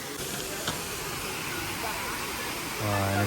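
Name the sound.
waterfall at Ellora caves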